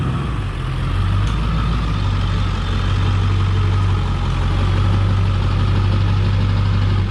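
A vehicle engine idles steadily and close by for the whole stretch as it pulls up to a gate sensor, a loud, even low rumble with no talking over it.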